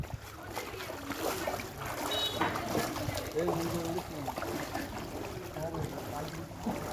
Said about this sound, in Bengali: এখনো নৌকা চলছে এখানে